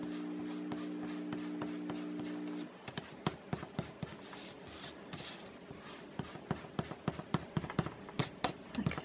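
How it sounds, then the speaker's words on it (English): Pencil guidelines being erased from paper, a rapid series of short scratchy rubbing strokes close by, following a steady hum at the start. "I'm going to erase all my guidelines."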